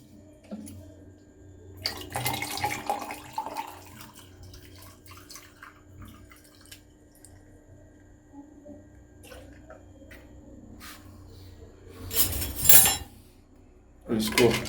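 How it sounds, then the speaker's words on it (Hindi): Chilled water poured into homemade strawberry syrup to make a sharbat, a splashing, trickling pour rising in two louder bursts near the end amid kitchen clatter of utensils and dishes, with a voice speaking quietly in the background. "इसमें हम चिल पानी डालेंगे।"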